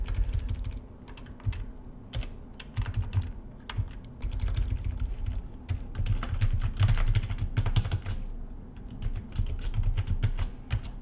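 A password tapped out on a computer keyboard while setting up a Rust game server on AWS: quick, close, uneven clicking keystrokes that continue steadily with short gaps and no talk.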